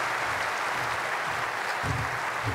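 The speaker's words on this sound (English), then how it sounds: "please keep that applause going for the President of the IAF, Jean-Yves Le Gall" An audience at a congress opening ceremony applauds with a dense, continuous clapping that stays steady and fairly loud throughout.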